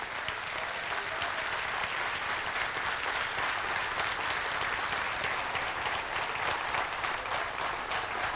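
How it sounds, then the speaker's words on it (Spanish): Loud, dense applause fills a church as the congregation claps continuously and evenly throughout, with no voices standing out above it. "Vamos a darle aplauso a Dios porque Dios es el que se lo merece"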